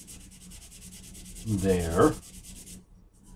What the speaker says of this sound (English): we're sanding primer now